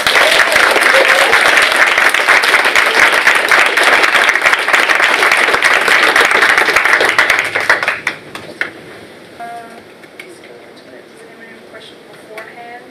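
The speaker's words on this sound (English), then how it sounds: "let's hear a big round of applause for our next guest, Festrell" A live audience breaks into loud, dense applause with cheering for a spoken-word performer, Festrell, sustained for about eight seconds before dropping off sharply to scattered claps and faint voices.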